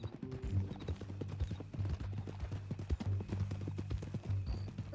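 Horse hooves clip-clopping in Red Dead Redemption 2, a steady, close run of hard hoof strikes over a low rumbling background with a faint tonal hum, with no talking.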